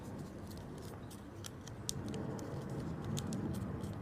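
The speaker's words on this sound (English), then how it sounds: "you're going to do what's called a reverse fold" Paper being folded into an origami crane with a reverse fold, soft crinkles and sharp little creasing crackles scattered over a quiet room background.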